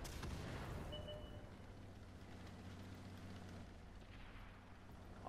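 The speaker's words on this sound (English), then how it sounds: "the artillery shooting all over us" Enemy artillery firing in World of Tanks opens with a loud, close boom that decays into a long rumbling tail over steady background engine noise.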